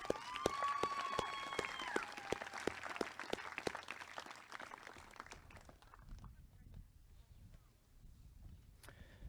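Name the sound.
graduation audience applause for Ariana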